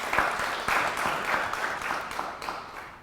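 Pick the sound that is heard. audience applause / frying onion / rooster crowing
audience applause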